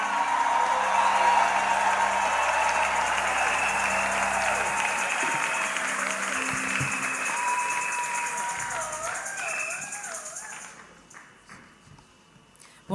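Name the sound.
church congregation applauding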